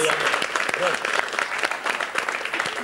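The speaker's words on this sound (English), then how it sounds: "round of applause for Tina" Studio applause for a caller on a radio talk show, a steady patter of clapping lasting a few seconds, mixed under a presenter speaking over it.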